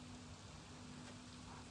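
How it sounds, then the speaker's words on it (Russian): Light, fine rain falling steadily outdoors on an August afternoon, a soft continuous hiss with no distinct drops, quiet and even throughout. "Начался дождик."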